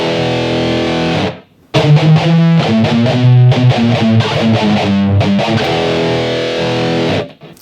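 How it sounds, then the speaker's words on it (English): A palm-muted electric guitar riff on a distortion channel chugs loudly in tight, rhythmic bursts with sustained pitched notes, briefly dropping out before restarting and cutting off at the end. "when I put this on a distortion channel, I'm going to want to use palm muting"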